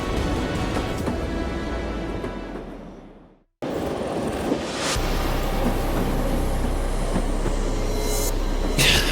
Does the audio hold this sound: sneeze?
no